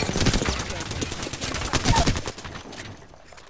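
Gunfire in the Apex Legends video game: rapid overlapping bursts of shots, fairly loud at first, then thinning out and fading toward the end.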